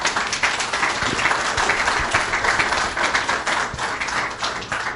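An event audience claps for a panelist called up on stage, a steady, moderately loud round of applause with distinct individual claps heard throughout.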